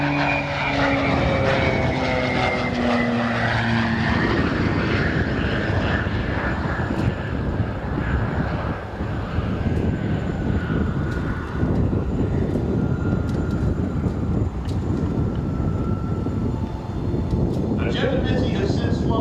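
A P-38 aircraft engine roars loudly at the Wings Over Houston airshow, a continuous propeller drone that sweeps downward in pitch as the plane passes, while an announcer talks over it throughout.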